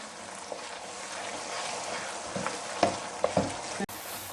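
Semolina halwa (makhandi halwa) stirred with a spoon in a pan over medium heat, a steady low sizzle under a few distinct scrapes and clinks of the spoon near the end, close up with no talking.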